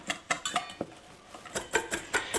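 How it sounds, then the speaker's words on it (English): A metal whisk jabs straight down into brown sugar in a bowl for cinnamon roll filling, giving about a dozen sharp, close clinks in an uneven rhythm, some quick pairs and a brief pause midway. "I'm just using the tines of my whisk straight down in this, and that allows me to just kind of break up any lumps"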